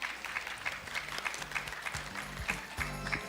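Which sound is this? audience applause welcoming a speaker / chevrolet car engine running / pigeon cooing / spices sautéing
audience applause welcoming a speaker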